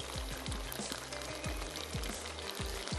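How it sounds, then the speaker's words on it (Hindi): Soy-based sauce simmering in a pan with beef for a stir fry, giving a steady close bubbling sizzle with repeated soft pops and spatters throughout, no voices. "ये जो हमारा सारा सॉस है इसको हम इसमें ऐड करके थोड़ा सा कुक करेंगे"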